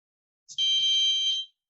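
A single sustained electronic beep from a HaloCode smart house recognition program, clear and alone, lasting just under a second.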